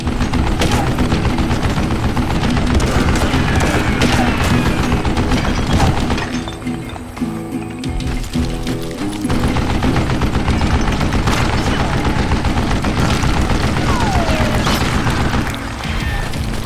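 A mounted gun fires in a Western shooter game, a loud, dense, nonstop hammering of rounds mixed with shattering and crashing impacts, briefly dipping in the middle before the barrage resumes.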